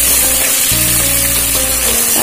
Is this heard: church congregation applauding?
no